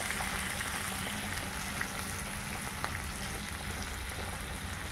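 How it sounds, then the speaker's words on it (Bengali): Spinach fries lightly in oil in a pan for a fish curry meal, giving a steady soft sizzle and crackle that continues evenly throughout at moderate volume without talk. "এবার পালং শাকটা একটুখানি সাঁতলে নেব বা হালকা ভেজে নেব।"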